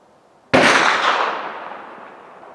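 A single sharp rifle shot fired at a paper target, loud and close, cracking suddenly and then trailing off in a long fading echo with no voices.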